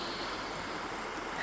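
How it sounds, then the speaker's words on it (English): Steady, even wash of flowing water fills the whole stretch without a break, a soft continuous rush like surf or a stream heard alone with no voices. "I'm gonna give you a minute to just listen to the water and watch it"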